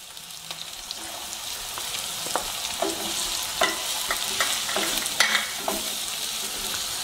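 Beans sauté in a hot pan under a constant bright sizzle, broken by scattered spatula scrapes and taps. The sound is near and steady, with no voices.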